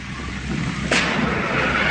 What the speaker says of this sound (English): Over here, the hail cannon firing off